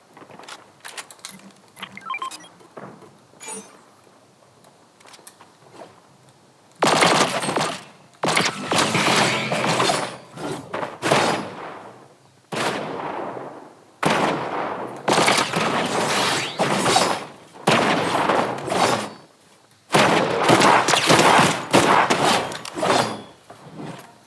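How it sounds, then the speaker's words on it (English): Smart pistol gunfire rings out in a video game shootout, quick clusters of sharp shots arriving in repeated loud bursts after a quieter opening, broken by short pauses. "I like killing people with my smart pistol."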